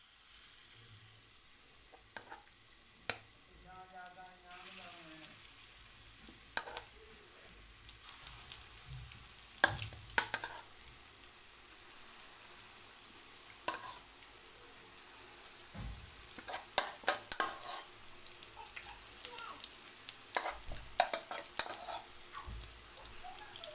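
Potato pakoras fry quietly in oil, a soft continuous bubbling sizzle punctuated by scattered clicks and clinks of a utensil against the pan, fairly faint and without talking.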